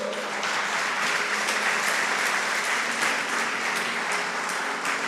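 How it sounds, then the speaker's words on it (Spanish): A church congregation applauds during a Spanish-language sermon, a steady wash of many hands clapping together, dense and even throughout. "Dele un aplauso al Señor."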